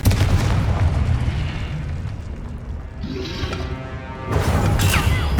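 Spell blasts in Hogwarts Legacy, among them Stupefy, Expelliarmus and Confringo, come as loud, rolling booms and crashes. The heavy rumble fades briefly midway, then surges back.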